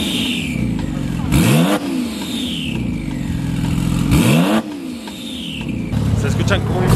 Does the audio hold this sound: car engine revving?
yes